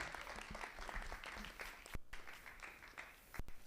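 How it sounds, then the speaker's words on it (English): Student union audience clapping for a quiz winner, a moderate burst of applause with a few sharp louder claps, heard faintly with some background voices. "Round of applause, everybody"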